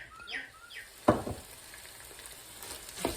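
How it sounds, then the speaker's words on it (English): Rice is stirred in a large pan for pumpkin shrimp risotto, coating the grains. A soft sizzle runs throughout, with a couple of sharper scraping strokes from the spoon and a few faint chirps in the background. "Stir like this. Coat the rice and make it firm."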